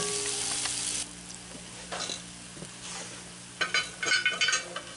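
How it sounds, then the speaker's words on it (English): Garlic cloves are stirred in a pan of vegetables as part of a Dutch oven rabbit recipe. A steady sizzle runs throughout, with a few spoon scrapes and some clinking of metal near the end. No voice is heard. "Then go garlic cloves. Stir them in a little bit."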